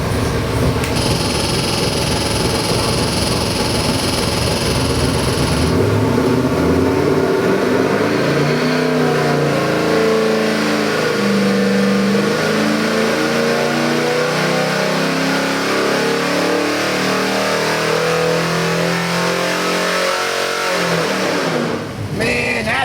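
A 408 cubic inch small-block Ford performance crate engine revs hard and loud, its pitch climbing and falling through repeated throttle blips, with a steady mechanical drone underneath.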